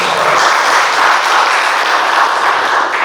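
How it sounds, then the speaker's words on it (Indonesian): A crowd at a youth protest rally in Sumbawa claps in a dense, steady roar of applause, loud and continuous for a few seconds with no talking. "Tepuk tangan untuk provinsi Pulau Sumbawa."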